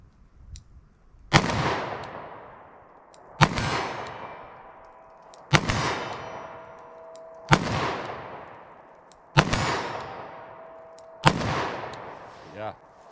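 A Smith & Wesson Governor revolver firing .410 slugs at a 25-yard range: six loud, sharp shots at roughly two-second intervals, each followed by a ringing decay, close up with no voices between shots.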